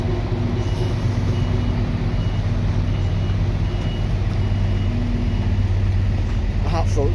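HGV trucks crowd a busy yard on a Monday morning, with a continuous loud engine rumble, steady reversing beeps, and air brakes hissing near the end; a voice talks over it.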